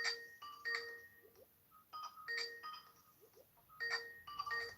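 A phone ringtone for an outgoing call plays in repeating bursts with short gaps, a bright electronic melody sounding faintly and continuing without being answered.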